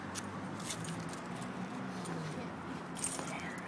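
A set of keys jangling with light metallic clinks against a steady background hum, with faint talking under it.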